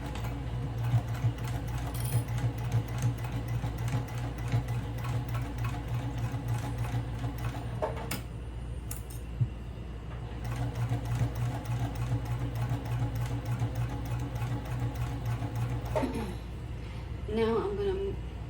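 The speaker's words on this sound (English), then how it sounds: "we're going to take it to the sewing machine" A sewing machine stitches fabric for a shoulder bag with a fast, steady mechanical whir, pausing briefly twice, while a person talks over it.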